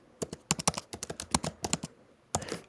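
Bursts of close-up computer keyboard typing, crisp individual key clicks in quick uneven runs, a brief pause, then a final flurry of keystrokes.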